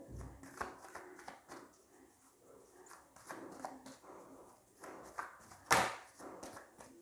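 Tarot cards are shuffled by hand in a run of soft riffling and sliding strokes, close and fairly quiet, ending in one sharp, louder burst near the end.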